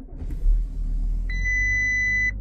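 An Audi A7 with a mechatronic unit failure is started on the street, giving a low rumbling crank and idle, followed by a steady electronic dashboard beep tone that holds for about a second before cutting off.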